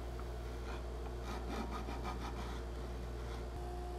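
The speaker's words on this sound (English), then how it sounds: "I'm just taking my time to finesse it with a file until I'm happy with how it looks" Steady rasping strokes of a file shaping the curve of a plywood template, a close, continuous rubbing rhythm with no talk.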